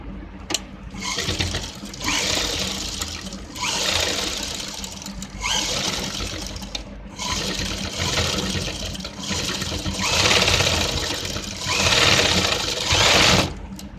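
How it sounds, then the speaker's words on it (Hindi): A sewing machine stitching a patti paan neck design runs in about six steady bursts of rapid whirring, each separated by a brief pause, loud and close with no talking. "तो देखिएगा, इस पर हम लब की सिलाई लगा रहे हैं।"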